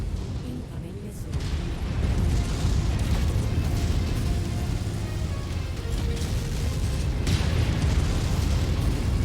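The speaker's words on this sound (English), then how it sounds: "Incoming missile." A missile strikes in the mech combat game Mechwarrior 5, its explosion rumbling as a sustained low boom that persists for several seconds amid continuous battle noise, with no voices.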